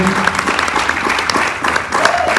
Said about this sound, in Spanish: Un fuerte aplauso al Reino de nuestro Padre.